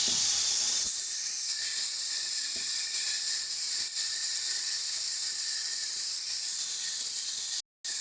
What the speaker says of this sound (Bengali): মশলাটাকে খুব ভালো করে কষিয়ে নেবো যতক্ষণ না মশলাটা থেকে তেল ছাড়ছে।